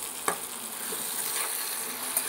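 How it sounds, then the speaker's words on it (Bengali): Capsicum, tomato and slit green chillies fry together in a hot pan with a steady, close sizzle, broken by a few sharp crackles and light stirring scrapes. "তারপরে ক্যাপসিকাম, টমেটো, 4-5টা কাঁচা লঙ্কা চিড়ে দিয়েছি। এবার এগুলোকে একসঙ্গে ভেজে নিচ্ছি।"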